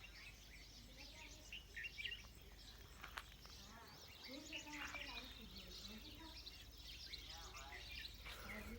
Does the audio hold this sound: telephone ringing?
no